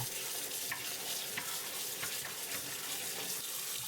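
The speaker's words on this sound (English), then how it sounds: "remove the skin from the broad beans. Rinse them." Peeled broad beans rinsed under a running kitchen tap, a steady hiss of water with scattered splashes and stirring knocks as they are moved around in the flow.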